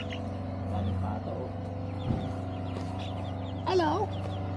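Chickens cluck softly at a butterfly farm in Litchfield, Australia, with faint intermittent calls over a low, steady background hum.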